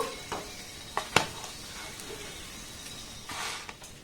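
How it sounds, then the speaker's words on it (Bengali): Soft sizzling and frying of flour and potato snack pieces in a pan of hot oil, a quiet steady hiss broken by a few sharp crackles and light scraping clicks. "আর একইভাবে সবগুলোকে আমি সুন্দর করে ভেজে নেব"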